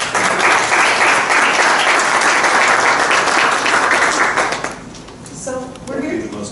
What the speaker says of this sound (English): The most applause all day.